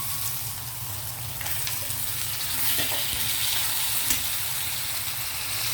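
Chicken frying in a pan with curry leaves, coriander and green chillies gives a loud, continuous sizzle that holds steady from start to finish, with a few faint scrapes.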